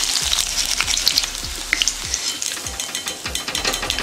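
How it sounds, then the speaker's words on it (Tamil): Four crushed, skin-on garlic cloves fry in oil for a roasted chana dal snack mix, with a continuous crackling sizzle and a few light stirring clinks close by. "4 பூண்டு போல் தோலோட்ட தட்டியிருக்கேன். இதையும் பொரிச்சுக்கலாம்."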